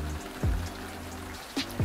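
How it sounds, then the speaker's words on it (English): Light rain falling outside an apartment balcony, a soft continuous patter and trickle heard close, with a few brief swooping low sounds mixed in and no speech. "By the way, it's raining right now."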